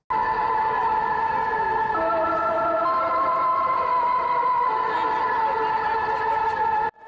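A North Korean morning wake-up alarm broadcast: a loud, steady wailing drone with layered sustained tones that shift slightly in pitch, carrying on for several seconds before stopping abruptly.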